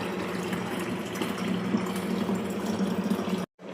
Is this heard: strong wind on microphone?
no